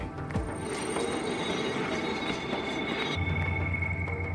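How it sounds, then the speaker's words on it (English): A moving train in Sudan rumbles along with metallic squeals and faint clinks of wheels on rails, heard from inside, steady and moderately loud. "But I see no station, and this train shows no sign of stopping or even slowing."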